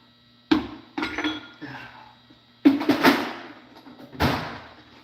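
Metal hammer strikes driving a shaft out of a part, four sharp impacts spaced irregularly with ringing decay, close and fairly loud, no talk over them.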